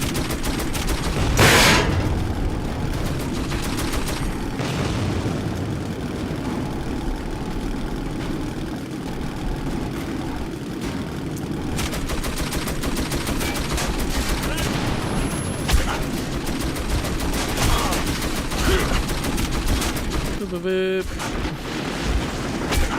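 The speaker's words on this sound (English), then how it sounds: "Oh, machine gun overheated." A machine gun firing in the video game Metro 2033, heard as dense, continuous rattling gunfire over a steady engine-like rumble, with a brief sharp burst near the end.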